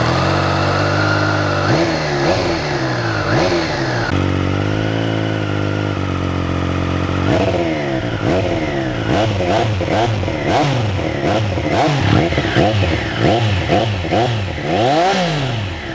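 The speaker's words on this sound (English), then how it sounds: "This exhaust has a much deeper growl and keeps you excited while you're riding it out on the highway." A Triumph Street Triple RS motorcycle with an aftermarket exhaust and carbon fiber tip revs repeatedly, rising and falling in sharp bursts from a deep growl, close and loud with no talk.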